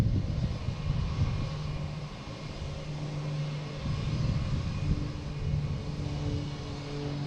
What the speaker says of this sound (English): Also the Cessna taking off to Martha's Vineyard for Cape Air